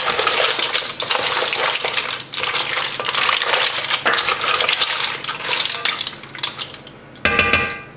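Mussels being stirred in a beer sauce with parsley in a pot, shells clattering and scraping densely and continuously at close range, with a brief pause before a final rattle.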